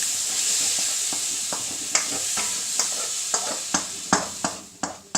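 Vegetables with a glug of light soy sauce are stirred in a frying pan, producing a constant hissing sizzle punctuated by a series of sharp spatula knocks against the pan.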